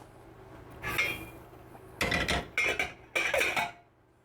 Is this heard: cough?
no